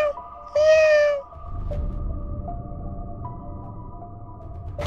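A person imitates a cat's meow once, a bright, loud harmonic cry with rising and falling pitch, followed by a faint steady tone and low background rumble.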